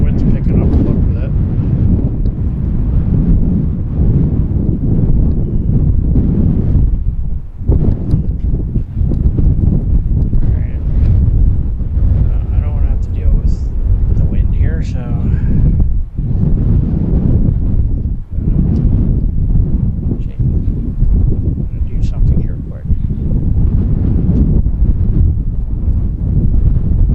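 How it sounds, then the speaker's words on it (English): Strong wind buffets a microphone outdoors at an evening airport cargo watch, a loud, continuous roaring rumble that swells and drops briefly in gusts for the full length, with no voices over it. "the wind's picking up a little bit"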